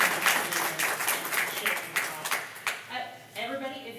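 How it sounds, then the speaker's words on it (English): An audience applauds street artist Leon Keer at the close of a talk event: a dense, steady patter of many hands clapping, moderately loud, then thinning out as voices begin speaking near the end. "Everyone, please give a round of applause to Leon."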